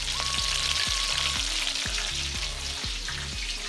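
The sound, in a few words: chicken wings frying until golden brown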